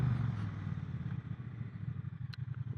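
Triumph Bonneville T120 motorcycle under way on the road, a steady low engine rumble with a pulsing exhaust note and wind, fairly close and continuous, with no talking.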